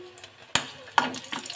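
Crushed garlic and pepper sizzling in a hot pan, short bursts of frying crackle with stirring scrapes, close and fairly quiet, no talk.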